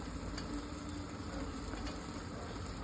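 Ground spices, coriander and cumin powder, fry and get stirred in a pressure cooker for yakhni pulao, giving a steady close sizzle with soft scraping, and a couple of faint clicks over a constant background hum.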